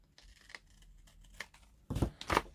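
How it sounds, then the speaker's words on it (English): Scissors make a few soft, close snips through paper, quiet at first, then a louder pair of cuts near the end. "I'm just going to cut that."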